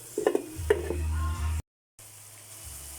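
Ginisang sayote, chayote sautéing in a pan, gives a steady close sizzle with a few stirring scrapes, a brief cutout, then a softer continuing fry.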